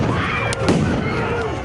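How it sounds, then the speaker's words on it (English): A large explosion bursts amid a dense, noisy crowd of protesters during a police crackdown in Washington, a brief loud pop lost in constant roaring crowd noise and shouting. "A large explosion is heard."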